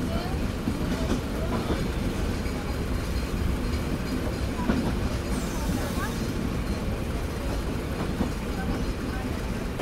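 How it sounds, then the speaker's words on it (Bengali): The Sundarban Express pulls out of Kotchandpur station in Jhenaidah on its Dhaka-to-Khulna run, a continuous loud rumble and rattle of carriages heard from aboard, with faint voices under the din. "2টা বেজে আমাদের ট্রেন ছেড়ে দিল কোটচাঁদপুর।"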